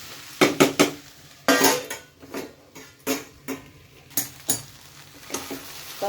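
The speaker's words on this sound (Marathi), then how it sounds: "झाकण काढून परतून घेऊया आणि पुन्हा 2 मिनिटं झाकून शिजवून घेऊया" Okra frying dry in a pan as the lid is lifted and the vegetables are stirred, giving a series of sharp metallic clinks and scrapes of spatula on pan over a faint sizzle, close and with no talking.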